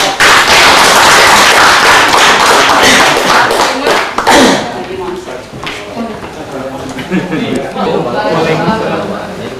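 A class of students at an environmental education workshop in Central Kalimantan claps loudly together, a dense burst of hand claps that fades after about four seconds into scattered taps and murmuring voices.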